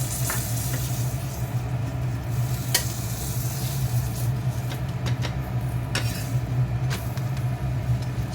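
Fenugreek parathas roast in butter on a hot griddle, giving a steady low sizzle with occasional scraping clicks from turning them, close and continuous, with no talking.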